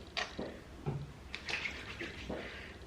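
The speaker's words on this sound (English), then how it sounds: "I'm going to just spray a little bit of water" Several short, soft hisses of a spray bottle misting water onto hair, spaced irregularly a fraction of a second apart, close and quiet.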